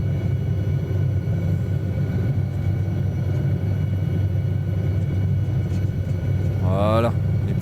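Helicopter in Microsoft Flight Simulator 2020 settling onto the ground, a steady loud rotor and engine rumble throughout with a brief rising whine near the end.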